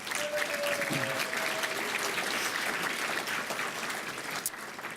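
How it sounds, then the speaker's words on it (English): An audience at a civic awards ceremony applauds warmly, a steady, moderately distant round of clapping that holds evenly before tapering slightly at the end. "Please give her a warm round of applause."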